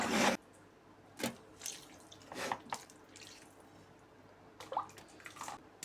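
Broth is poured into a pot of stuffed grape leaves and cabbage rolls, giving irregular splashes and trickles, with a loud burst at the start, then intermittent liquid spatters, fairly close and moderately quiet.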